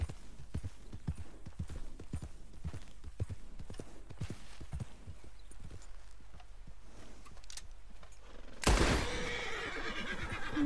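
Horse neighs and repeated clip-clopping hooves at a camp in Red Dead Redemption 2, with steady hoof beats through most of the stretch and a loud, sharp burst near the end.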